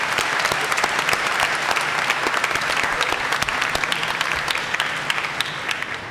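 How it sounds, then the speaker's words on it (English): Sustained applause from a large graduation audience honoring teachers and coaches, steady dense clapping that fills the whole stretch at even loudness with a few louder claps standing out. "Please round of applause for the teachers and coaches."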